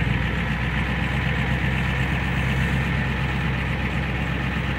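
A Ford E350 ambulance van drives slowly around a salvage yard, its engine a steady low rumble with constant broadband noise and no voices.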